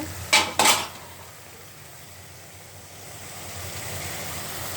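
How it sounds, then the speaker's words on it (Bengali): Jute greens stirred into softened potatoes in a cooking pot: two quick metallic scrapes of a spoon against the pot, then a faint, low simmering hiss. "শাকগুলো দেওয়ার পর আমি একটু নেড়ে চেড়ে দিচ্ছি"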